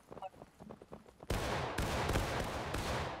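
A musket volley crashes out in the Civil War game War of Rights, a sudden loud broadband roar of many shots fired together, followed by a second ragged burst and rolling echoes, after faint bird-like calls.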